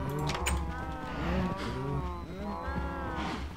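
Cattle mooing in ZettaCraft, a Minecraft-style video game, with several long, drawn-out moos overlapping continuously under steady in-game ambience and music.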